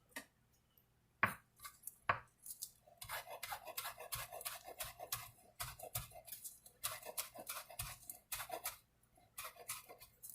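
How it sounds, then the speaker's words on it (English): A knife chops fresh herbs on a cutting board in quick, irregular runs of sharp taps and scrapes, close and fairly quiet, with brief pauses between bursts. "Be careful with those fingers when you're chopping herbs"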